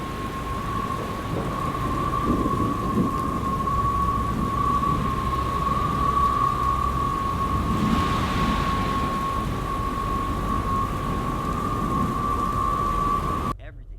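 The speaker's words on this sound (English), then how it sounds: "With the storm raging around him" A thunderstorm with heavy rain pours down steadily and loudly through the whole stretch, rumbling low thunder mixed into the constant hiss of rain on surfaces, with a steady tone running across it until it cuts off near the end.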